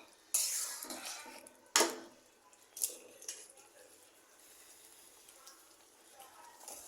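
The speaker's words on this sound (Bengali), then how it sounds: "আলুগুলা দিয়ে দিচ্ছি।" Potatoes tipped into a pan of fried chicken liver in a home kitchen: a sharp clatter and scrape of utensil on pan, then a few smaller knocks over a faint background sizzle.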